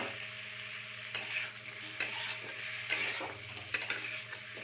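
Cut potatoes go into a hot pan of oil in a Kolkata street-food kitchen and sizzle steadily, with four sharp clacks as a utensil stirs and taps the pan.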